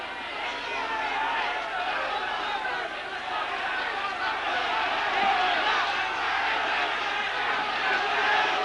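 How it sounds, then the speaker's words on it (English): A boxing crowd shouting and roaring during a Charlie Nash fight, a dense continuous wall of voices and yells swelling slightly toward the end. "this crowd now sensing that Charlie's in trouble, and they're crying to him to keep out of trouble"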